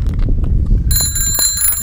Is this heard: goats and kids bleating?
no